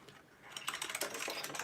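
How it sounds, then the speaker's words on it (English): An old computer keyboard from 1994 clatters under a quick burst of keystrokes, a soft, close run of rapid clicks with no voices. "So this is an old keyboard from '94."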